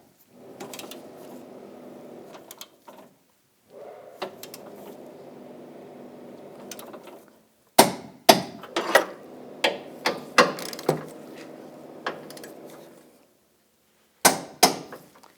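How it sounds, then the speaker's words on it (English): Bolts on a 2014-2018 GMC Sierra are torqued to 74 foot-pounds with a ratchet. Steady close clicking runs in several stretches, followed by a series of sharp individual clicks and knocks, with no speech. "Now we're going to torque these bolts to 74 foot-pounds."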